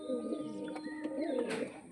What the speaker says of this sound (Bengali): দেশি পায়রা, ভালো পায়রা আছে